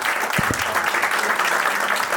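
A live poetry-show audience applauds to welcome a poet, a dense, sustained wash of clapping with a couple of soft low thumps near the start.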